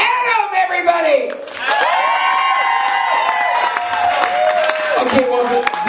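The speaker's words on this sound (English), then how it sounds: "the applause has been the same for everyone" A crowd at a fishbowl winners announcement cheers and whoops loudly, with shrill shouts and clapping that hold steady throughout.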